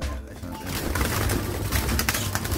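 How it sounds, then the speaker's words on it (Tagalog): Several birds, including Fischer's and lutino lovebirds, coo and chirp in a busy aviary, a steady chorus with a person talking faintly underneath. "meron tayong mga iba pang ibon dito"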